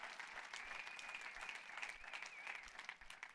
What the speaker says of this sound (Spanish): Denle un fuerte aplauso al Rey de la Gloria conmigo.